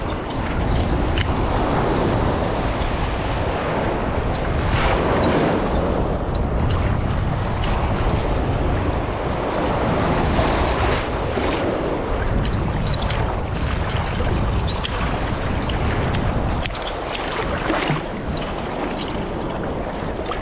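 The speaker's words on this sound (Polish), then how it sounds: "Ale są fale" Sea waves roll onto the shore while someone is fishing from the beach for garfish, a loud continuous rushing wash that swells and surges steadily with no pauses.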